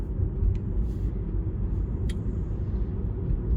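Tesla Model 3 rolling along a road through a town, a steady low road and tyre rumble from inside the car with no engine note, a couple of faint ticks above it.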